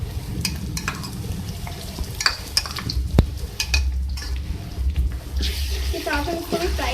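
Onions fry with ginger-garlic paste in a pan, a metal spoon scraping and clinking against the pan in repeated strokes over a continuous sizzle. A voice sounds at times beneath the cooking noise.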